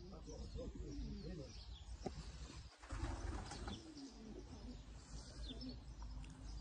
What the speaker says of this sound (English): I just saw a lone pigeon on its own